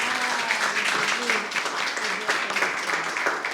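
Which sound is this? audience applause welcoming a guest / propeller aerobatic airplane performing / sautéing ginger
audience applause welcoming a guest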